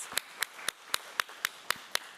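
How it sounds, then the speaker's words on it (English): Sparse, slow hand claps at a committee meeting, about eight evenly spaced sharp claps over two seconds, fairly faint in a quiet room. "So let's give her a round of applause."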